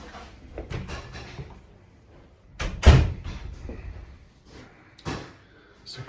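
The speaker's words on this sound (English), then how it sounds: "We'll just go through the door." A door in a house kitchen is opened and passed through, with a loud thump near the middle and lighter knocks and handling noises around it, while someone speaks briefly.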